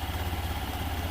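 A Honda Beat Deluxe scooter engine idles steadily just after a new crankshaft is fitted, a close, even, low putter with a fast regular pulse and no talk.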